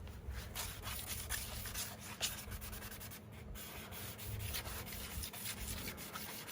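Steady close rubbing rasp of 800 grit sandpaper worked over a Mercedes R-Class headlight lens during wet sanding, continuous back-and-forth strokes with no pauses and no talking.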